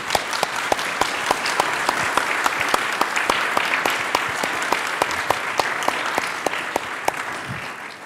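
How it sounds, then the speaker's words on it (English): An audience applauds the speakers at the close of a forum on economic diversification in the GCC, sustained close clapping for several seconds with a few sharp individual claps standing out and no talk. "please give a very nice, warm round of applause to our speakers"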